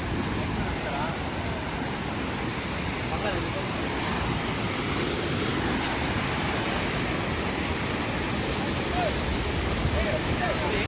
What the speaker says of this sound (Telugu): నిజంగా నెక్స్ట్ లెవెల్ అయ్యా వాటర్ ఫాల్